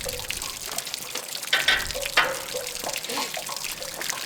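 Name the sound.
water draining from an RV water heater tank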